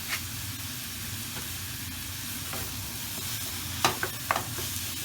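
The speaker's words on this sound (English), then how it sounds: "we want to start browning our meat" Ground beef browns in a hot pan with a steady, close sizzle and hiss, broken by a few clinks and scrapes of a utensil stirring the meat near the end.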